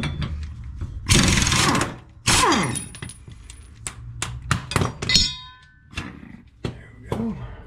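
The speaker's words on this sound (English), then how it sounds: "Let's get these blades off of here." Blades come off an Ariens zero turn mower with loud metallic clangs, clinks and ratcheting tool clicks, several sharp strikes and rattles spread unevenly across the clip, close and clear with quieter gaps between.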